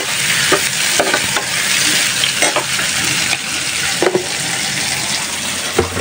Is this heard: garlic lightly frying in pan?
yes